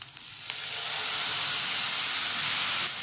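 Tomato paste frying in a pan while cooking karela sabzi (bitter gourd curry): a few light clicks, then a loud, steady, hissing sizzle that holds close and continuous with no talk.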